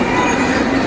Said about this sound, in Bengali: এই প্ল্যাটফর্মটায় আসছে গাড়ি।